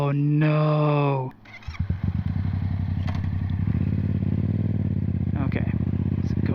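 A motorcycle engine idles and runs close by with a steady, throbbing low rumble. A brief tonal voice and a clattering thump come just before the engine noise settles in.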